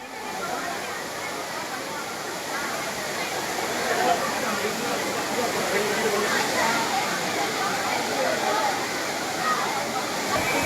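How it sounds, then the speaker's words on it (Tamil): Waterfall at Old Courtallam with a crowd of tourists bathing beneath it, a steady, dense roar of falling water throughout, with a faint murmur of people mixed into the wash. "பழைய குற்றாலம் 5 அருவியில் குவிந்த சுற்றுலா பயணிகள்"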